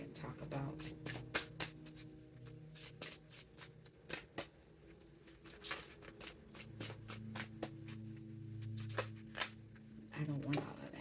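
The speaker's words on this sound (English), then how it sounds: "So let's pull some cards on this." Tarot cards being shuffled and pulled by hand, a steady run of crisp riffling flicks and soft slaps close up, with a low hum and someone speaking intermittently underneath.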